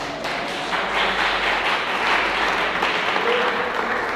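A church congregation applauding, steady dense clapping from many hands filling the room at moderate loudness for a few seconds without pause.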